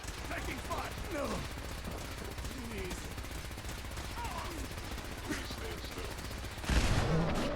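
Energy weapon gunfire in the video game Fallout 4 crackles in rapid bursts over other game sounds, ending in a louder, denser volley.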